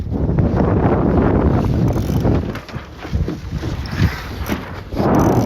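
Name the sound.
wind gust on a sailing dinghy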